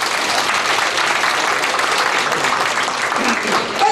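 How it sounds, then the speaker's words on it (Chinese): Audience at a community forum applauding, dense steady clapping from many hands filling the room at full volume throughout, without pause. "大家俾掌声佢哋。"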